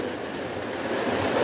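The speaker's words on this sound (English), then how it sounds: "steam locomotive coming through the, crossing the train bridge" A Lionel model steam locomotive runs along its track across a train bridge, giving a steady, close mechanical rumble and rolling clatter without any talk.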